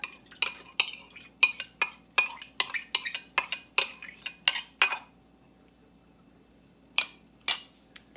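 Starter cultures being dumped into milk in an Instant Pot and stirred in with a utensil: a quick run of sharp clinks and scrapes against the metal pot, close by, then a pause and two final taps.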